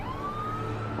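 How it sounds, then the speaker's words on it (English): A police vehicle siren wails outside, a single steady rising tone sounding moderately distant and continuous throughout. "What's with all the police trucks outside?"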